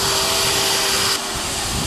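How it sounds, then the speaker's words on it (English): Vacuum cleaner running inside an old Toyota Land Cruiser 4x4, a loud, steady, close-up whooshing drone whose tone shifts slightly partway through as the nozzle moves. "Our vacuum cleaner worked to clean our old buddy where fingers cannot reach."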